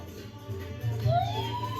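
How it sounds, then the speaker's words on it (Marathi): A police siren fitted to a vehicle wails at a moderate distance, its tone sweeping up and down over a low rumble of traffic. "पुलिस का सायरन क्यों लगाया गाड़ी को"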